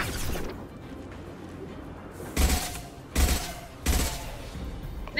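Bursts of gunfire in the Mass Effect 2 Legendary Edition video game, three sharp broadband volleys spaced about a second apart over a steady low rumble of combat ambience, fairly loud and close.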